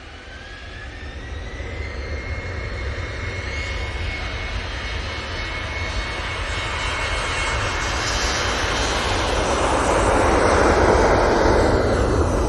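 A Helvetic Airways jet departs Manchester Airport, a loud continuous engine roar building steadily over several seconds, with a faint rising whine fading in and out.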